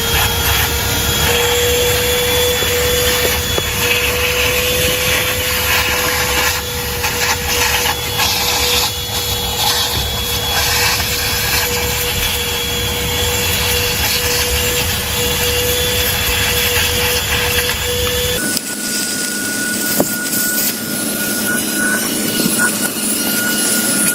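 A ThisWorx 12V handheld car vacuum cleaner runs continuously at close range with a steady whine, its tone shifting abruptly near the end as it is handled or changes load; no one speaks.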